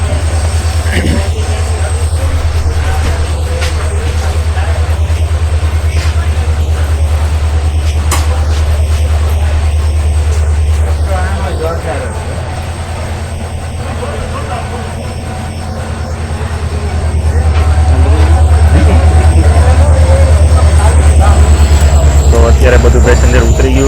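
A passenger train between Dhoraji and Somnath rumbles loudly and steadily as it comes to a stop, with a deep, droning engine hum that eases and then swells again, while people talk over the noise.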